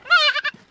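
A village goat gives one short, loud, wavering bleat up close, followed by a brief second bleat.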